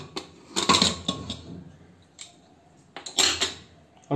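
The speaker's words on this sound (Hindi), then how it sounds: "अब अपने कुकर को खोलेंगे।" Metallic clanks and rattles of a pressure cooker lid being opened after cooking chickpeas, a few sharp bursts separated by quieter pauses, close by.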